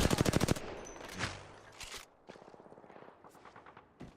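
Gunfire in an online shooter video game: a fast, loud burst of rapid shots opens, followed by scattered, quieter single cracks and distant reports.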